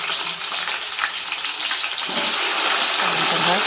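Green chillies dropped into onions frying in a pan set off a loud, continuous hiss and sizzle of hot oil, close up, swelling slightly partway through with a faint stir.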